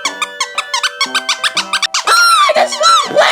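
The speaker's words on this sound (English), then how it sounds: "I just want to play with my Squeaky Toy!" A squeaky toy squeaks in a rapid series of short, high, bright squeaks, then longer rising squeals, loud and close with no talking.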